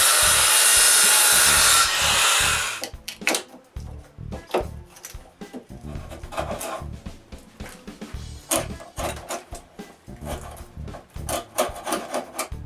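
A hand tool scrapes and rasps along a wooden tenon, cleaning up saw cuts for a sawhorse: a steady loud rubbing burst first, then repeated rhythmic strokes close by.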